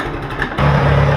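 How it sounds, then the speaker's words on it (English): An International 350 tractor engine catches and roars to life partway through, settling into a loud, steady low rumble close by. "hopefully you can hear me for the tractor, but she's running"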